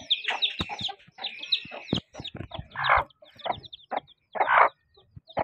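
A chicken clucks and squawks close by in rapid, uneven bursts, the calls broken by short pauses.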